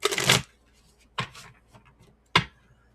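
A deck of playing cards being shuffled, three distinct riffling bursts, the first longest, separated by quiet pauses, close and clear with no talking.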